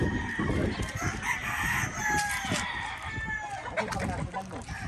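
Gamefowl roosters crow repeatedly on a game farm, several loud overlapping calls with clucking among the flock, and someone talks over the birds.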